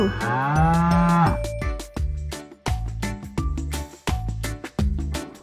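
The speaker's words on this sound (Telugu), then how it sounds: "మరి ఆ అంటే ఆవు." A cow moos once, long and loud, followed by a steady repeating beat of music with sharp rhythmic hits.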